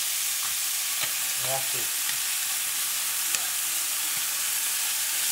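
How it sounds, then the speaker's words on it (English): Crayfish sizzling in a hot pan during an outdoor catch-and-cook in Tasmania, with a constant frying hiss, a brief scraping flip and a few light clicks, and a short spoken remark partway through. "I'm gonna flip the crayfish."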